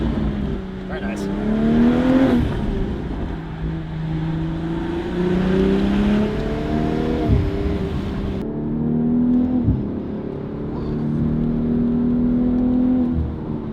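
BMW G26 M440i sports car with Valvetronic Designs exhaust revving hard, its note climbing and falling in repeated swells with crackling overrun on lift-off, loud and close; a man exclaims over it.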